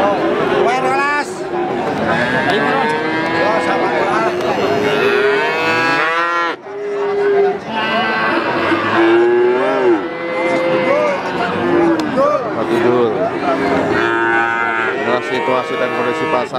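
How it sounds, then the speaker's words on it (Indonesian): Cattle low and moo repeatedly at the Wakinan cattle market on a Thursday morning, the calls loud and overlapping amid steady crowd chatter and people talking nearby. "Situasi dan kondisi pasar sapi Wakinan di hari Kamis pagi"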